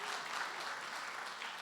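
A church congregation claps together in a brief, dense burst of applause, steady from start to finish.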